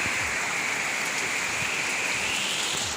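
Heavy rain from Typhoon Carina, a dense, steady roar of downpour hitting surfaces, loud and continuous throughout with no pauses.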